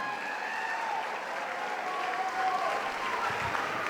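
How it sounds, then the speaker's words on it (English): A crowd at a fight event applauds the two fighters after the fifth bout, producing a steady wash of clapping that holds at an even level from start to finish. "a round of applause for our two fighters for fight number 5"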